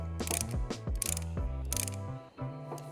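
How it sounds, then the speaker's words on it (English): A caliper tool presses the pistons back into a Honda Accord brake caliper. Close, repeated ratcheting clicks and creaks come in uneven strokes with short pauses. "use your caliper tool to compress the pistons back in so that your new pads will slip over your rotor."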